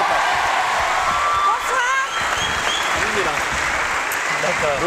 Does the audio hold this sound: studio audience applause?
yes